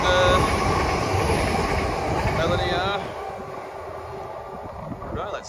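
A fast Great Western Railway train rushing through Oldfield Park station, a loud sustained rumble and roar that fades after a few seconds, with wind buffeting and a person talking over it.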